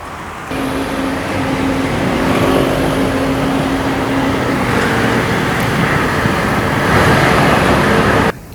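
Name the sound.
heavy toll-road traffic with large trucks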